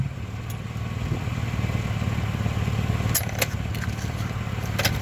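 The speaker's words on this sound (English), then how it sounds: "Sonne comme un exhaust leak." A truck engine idles with a straight-pipe exhaust, a steady low rumble with a raspy throb, continuous and moderately close, with a few light metallic clatters over the top.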